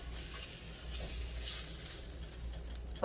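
Pork chops sear in oil in a pan over medium heat, giving a steady, moderate sizzle with a faint crackle and no one speaking.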